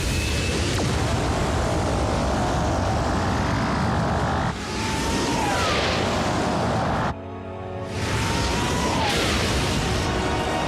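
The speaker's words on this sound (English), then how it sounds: "Full thruster burn." Thrusters of a flying vehicle in a Transformers cartoon roar in a dense, loud blast with whooshing swells, cutting out briefly before surging back.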